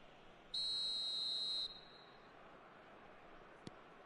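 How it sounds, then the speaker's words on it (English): A referee's whistle in the eFootball PES 26 football video game blows one loud, sustained shrill blast for a foul, then cuts off into quiet crowd ambience. "Whistle's gone, that's a foul"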